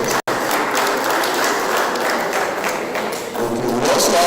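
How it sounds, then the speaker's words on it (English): At an induction ceremony, a crowd breaks into steady applause after a brief dropout, and the clapping holds at a fairly loud, even level throughout. "Round of applause for him."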